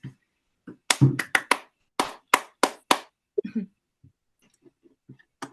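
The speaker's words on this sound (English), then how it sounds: "let's give Mark a final round of applause" A small audience at a Red Wheelbarrow Poetry Collective reading claps sparsely after a poem, a brief scattered burst of individual hand claps lasting a few seconds before trailing off into a few faint isolated claps.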